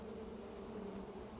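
Cartoon-style buzzing of a swarm of bees around a fireman and a steam engine, a steady droning hum that runs unbroken and close throughout.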